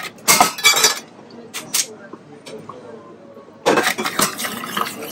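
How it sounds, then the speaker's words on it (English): Ice clinking and rattling in a glass as a cocktail is mixed, in short bright bursts near the start and a longer clattering stretch at the end, close, with a voice speaking in between. "now we add a little bit of ice"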